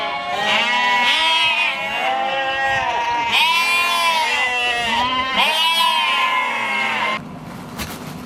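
Lambs bleat repeatedly and loudly up close, with wavering cries overlapping for several seconds before a brief quieter pause near the end.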